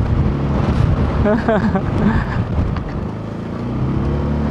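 Strong gusts from Typhoon Tino batter a Zontes 400G motorcycle on a mountain road, heavy wind roar buffeting the microphone over the steady engine drone, with a rider's voice speaking briefly partway through.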